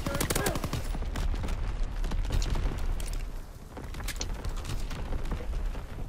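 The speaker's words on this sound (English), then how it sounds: "I put artillery on it" An artillery strike in the game Call of Duty: WWII brings a dense, loud barrage of booming blasts and rapid gunfire that keeps going through the whole stretch, with a voice faintly mixed in.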